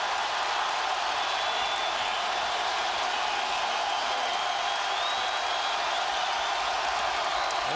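Crowd at a college basketball game between Auburn and Alabama roars in the arena: a loud, continuous wash of cheering that stays steady from start to finish.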